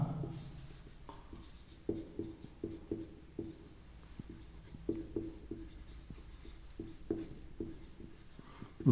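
A teacher writes on a board during a physics lesson. It sounds like a run of light, irregular taps and scratches of chalk or marker that carry on for several seconds.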